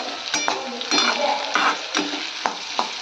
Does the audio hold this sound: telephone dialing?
no